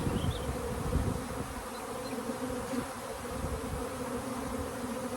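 A dense, steady buzzing fills the air, many honeybees swarming close by in a continuous drone with no voices.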